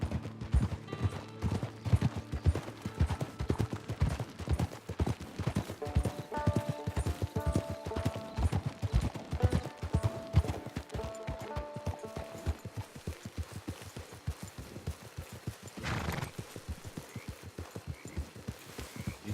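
Horse hooves clip-clopping at a steady walking rhythm in the video game Red Dead Redemption 2, close and continuous, with faint music notes drifting in and out underneath.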